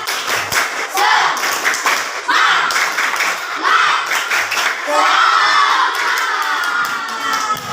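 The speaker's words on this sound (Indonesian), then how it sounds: "tepuk semangat, tepuk semangat." Schoolchildren in an elementary classroom perform a rhythmic spirit clap, loud bursts of clapping mixed with children's shouting and cheering, repeated in several waves across the whole stretch.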